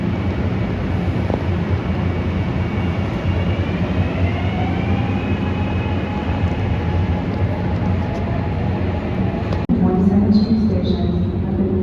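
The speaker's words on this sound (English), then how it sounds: "Here goes the train." A train passes a station in Philadelphia, producing a steady loud rumble throughout with a faint rising whine and a sharp click near the end.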